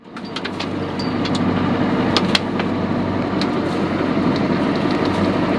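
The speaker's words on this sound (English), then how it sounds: "I will turn on my engine." A sailboat's engine runs at sea in a steady, loud drone with a broad rumbling wash, starting up and holding an even level throughout, with no talking.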